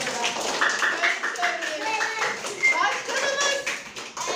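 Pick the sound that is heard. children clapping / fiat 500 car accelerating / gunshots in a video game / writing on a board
children clapping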